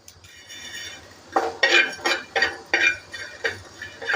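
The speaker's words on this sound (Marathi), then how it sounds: "हे जिरं मोहरी आणि काली मिरी आणि मेथीचे दाणे आहेत ना ते भाजून घ्यायचे आहेत आपल्याला" Cumin, mustard seeds, black pepper and fenugreek seeds dry-roasting in a pan, stirred with a utensil that scrapes and clinks against the metal in a steady series of close, fairly loud strokes, with no talk.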